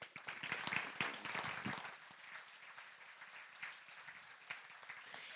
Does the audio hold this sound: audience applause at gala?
yes